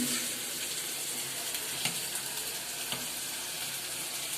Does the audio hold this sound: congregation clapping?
no